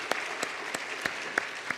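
A small congregation claps for a church choir at a Wednesday evening service, with sparse, fairly faint claps landing in a loose rhythm, roughly one every third of a second.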